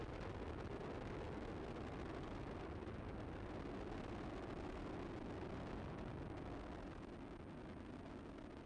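Space Shuttle Discovery's engines roar continuously during the STS-116 launch from Kennedy Space Center, a dense, steady broadband rumble with no talk, heard from short range and holding level throughout.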